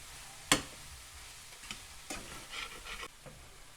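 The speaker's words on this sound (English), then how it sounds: "These vegetables are cooking very nicely, cooking down." Vegetables cooking down in a pan without oil for vegan bean tacos; a sharp clack is followed by quiet sizzling and intermittent scraping stirs, fairly soft and close.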